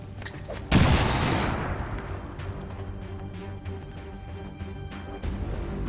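A frag grenade detonates in a turn-based video game, one sudden loud blast that rolls off into a long fading rumble, followed by quieter game effects and a faint later thump.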